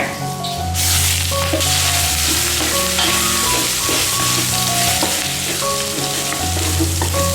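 Cut vermicelli and sliced meat sizzle loudly in a wok while being stir-fried, a dense constant crackle with scraping stir strokes and a low background hum, close up and without speech.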